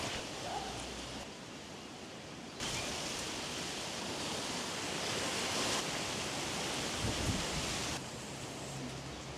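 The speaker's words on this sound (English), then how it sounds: "So let's get this on and test it under the shower." Shower water sprays steadily onto a rain jacket under test, a dense hissing wash that holds constant, growing louder partway through as the stream hits the fabric more directly.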